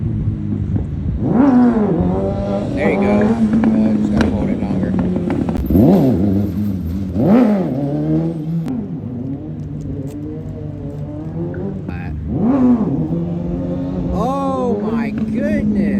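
A motorcycle engine on a wheelie machine revs repeatedly, rising and falling in pitch with several throttle blips over a steady idle, loud and close, with people talking over it.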